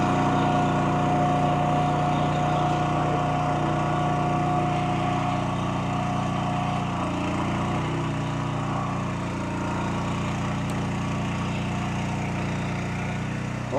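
Engines run steadily and loudly throughout, a continuous mechanical drone with a faint tonal whine, powering equipment during a house foundation lift by MP Foundations and Concrete Repair.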